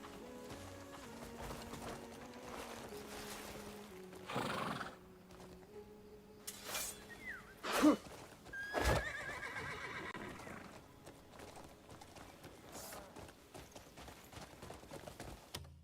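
In a video game, a horse whinnies and neighs while hooves clip-clop, the calls rising in a few sharp bursts over a quiet game backdrop.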